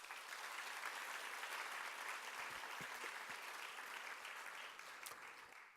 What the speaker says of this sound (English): So let's give our judges a round of applause.